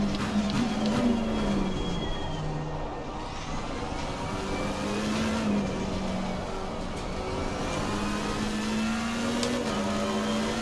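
Race cars lapping Imola in a wet sprint race in Assetto Corsa Competizione, a continuous engine drone with rising and falling revs and gear-change steps, fairly loud and steady throughout, with no talk.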